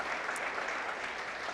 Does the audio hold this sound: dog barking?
no